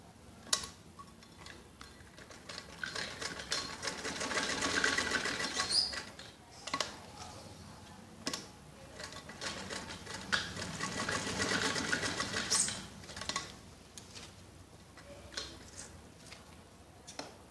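A sewing machine runs straight stitching to attach elastic to the belt of a kids' skirt, with steady whirring bursts that swell and ease, punctuated by sharp clicks and short pauses, and no voices.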